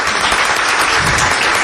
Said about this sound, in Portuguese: Uma salva de palmas para a minha mãe.